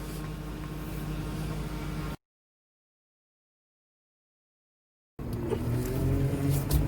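A Mercedes ML500 W163 with a suspected power steering leak cruises around a residential subdivision, its steady engine and road noise droning close by, cut off by a few seconds of silence before resuming.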